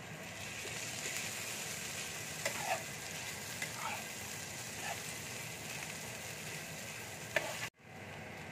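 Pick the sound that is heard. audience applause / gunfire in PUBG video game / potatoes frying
potatoes frying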